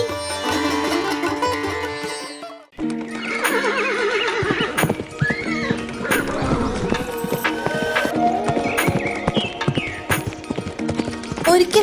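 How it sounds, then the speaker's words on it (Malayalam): In an animated cartoon, horse hooves clip-clop in a steady rhythm along a forest path alongside whinnying, with music and busy background sound throughout. "നമ്മുടെ മന്ത്രി വനപാതയിലൂടെ കുതിരപ്പുറത്തേറി ഒരു ദീർഘയാത്ര പുറപ്പെട്ടു"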